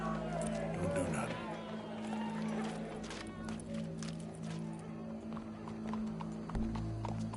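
Horse hooves clip-clop in the Red Dead Redemption 2 video game, a loud rhythmic trotting near at hand amid crowd ambience, with people talking over it.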